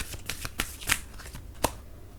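A deck of tarot cards is shuffled and drawn close by, with a few quick riffling bursts and sharp flicks of cards against a quiet room.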